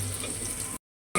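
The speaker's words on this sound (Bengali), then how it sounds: "আর আমি এখানে কালো জিরাগুলো ভেজে নিচ্ছি, পাটায় আগে দিয়ে দিব।" Black cumin seeds fry in a pan with a soft, steady crackling sizzle close by. The sound cuts out abruptly for a moment, then resumes.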